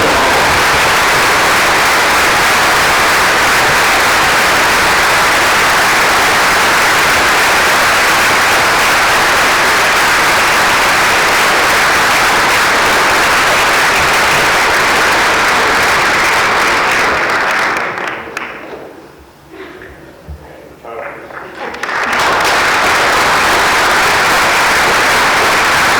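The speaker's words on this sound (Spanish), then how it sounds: "un fuerte aplauso" Strong audience applause at a tribute event honouring trade unionists, loud dense clapping that holds steady, briefly drops away almost to silence, then returns at full strength.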